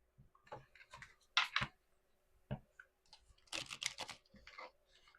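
Soft papery rustles and brisk flicks of tarot cards being shuffled, arriving in short irregular bursts with brief pauses between, close and fairly quiet.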